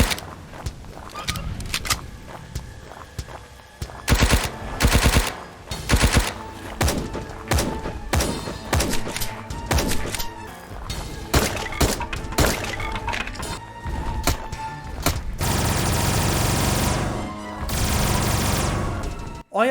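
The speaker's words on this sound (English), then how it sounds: "The weapons and explosions are all crisp, and so are all the mechanical noises." Weapons fire and explosions from the dinosaur survival game Dino Trauma, a dense run of sharp loud bangs and crashing bursts in irregular clusters, ending in a sustained roaring blast.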